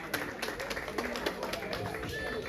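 An audience at a hospital medico-social fair claps for young people, a steady patter of many hands with irregular sharp taps, fairly close and sustained for the whole moment.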